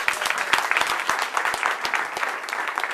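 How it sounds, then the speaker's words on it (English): An audience at a joint Wasilla/Palmer chamber assembly forum applauds its three candidates, with a steady burst of many hands clapping together in a room. "So if we could once again give a round of applause for our 3 candidates."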